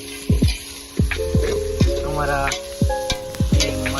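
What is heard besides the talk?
tempering spices sizzling in oil for Maggi noodles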